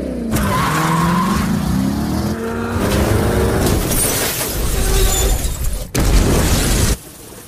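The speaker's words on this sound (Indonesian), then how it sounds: "Ia menghantam mobil Giacomo sampai hancur dan terpental ke dalam laut." A bus slams into a car during a movie chase, skidding tires and crunching, shattering metal and glass roaring loud and continuous, with a sudden break and a final impact before the noise cuts off.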